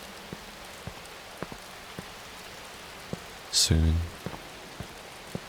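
Steady rain falling at night on Chicago streets in the game Watch Dogs, a soft continuous patter with scattered distinct drop ticks and one brief louder sound near the middle.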